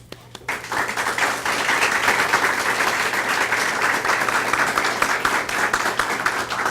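Lecture audience applauding as the speaker is introduced, a dense burst of clapping that starts abruptly and holds steady and fairly loud for several seconds.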